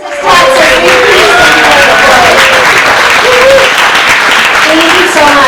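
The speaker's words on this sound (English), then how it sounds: "Please give her a round of applause." A fundraiser audience bursts into loud applause, dense clapping mixed with crowd cheering and a few whoops, rising quickly and staying strong to the end.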